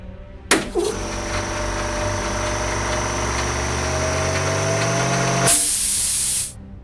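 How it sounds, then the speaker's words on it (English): A high-pressure cleaner in the adventure game Secret Files 3 sprays in a steady, loud hiss lasting several seconds, with a low engine-like hum beneath it and a brighter burst of spray near the end. "A high-pressure cleaner."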